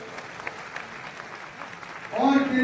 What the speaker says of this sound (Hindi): युवा शक्तिनाथ के शानदार कार्यक्रम के लिए आयोजकों के लिए जोरदार तालियां बजा दीजिए मेरे भाइयों